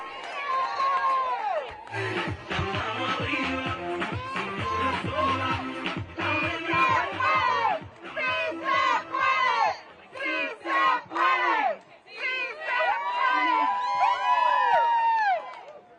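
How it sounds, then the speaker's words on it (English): A large rally crowd outside a Supreme Court hearing on birthright citizenship roars and chants continuously, loud and close, with rhythmic shouted bursts and cheering rising and falling throughout. "Let's give it a huge round of applause."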